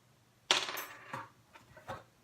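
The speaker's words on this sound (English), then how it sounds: "the traditional tossing away of the dice" Dice tossed onto a table during a board game unboxing: a sharp clatter as they land, then a few lighter bouncing clicks as they settle, close and clear with no talking.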